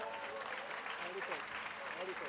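An audience claps for a stage singing and dancing performance. The applause is faint and distant, mixed under a singing voice.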